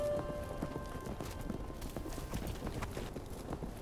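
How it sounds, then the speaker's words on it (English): Wild horses move across open range during a roundup in the Divide Basin, with hooves clopping steadily nearby and a red dun filly snorting, all at fairly low level. "The filly snorts an alert"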